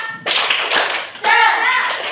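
A standing school class does a rhythmic spirit clap chant in two loud bursts of group clapping with voices joining in, separated by a short pause.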